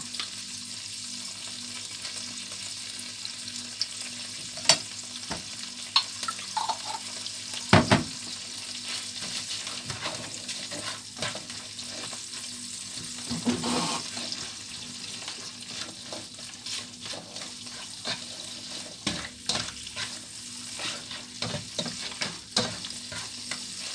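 Shrimp and crab stir-fried with chili paste in a pan, a steady sizzle broken by scraping and clanking of a utensil against the pan, close-up and moderately quiet.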